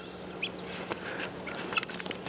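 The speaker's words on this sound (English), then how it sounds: "There are 2 guinea fowl" Guinea fowl call in a garden: a few short, sharp, high-pitched cries at a moderate distance, heard over a quiet outdoor background.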